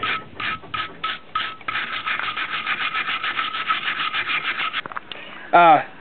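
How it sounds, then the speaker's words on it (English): Stiff brass brush rubbing a hot forged steel leaf with quick, steady scrubbing strokes, first in short separate bursts, then continuous, ending with a brief ringing scrape; close and alone without talk. "we'll just rub it with this brass brush, and it'll put the brass on it"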